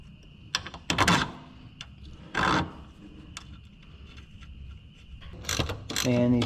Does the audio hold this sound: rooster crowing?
no